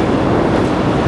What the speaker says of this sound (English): We just missed the train.